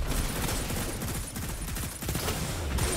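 Rapid gunfire from a Destiny firefight, dense overlapping shots crackling in quick bursts, loud and close throughout the clip.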